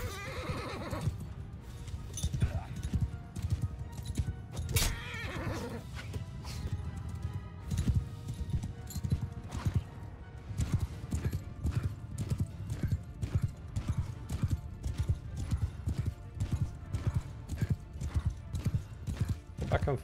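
Horse hooves pound in a fast, steady gallop during mounted riding in Mount & Blade II: Bannerlord, with occasional neighs and loud, continuous clattering throughout while someone talks over it.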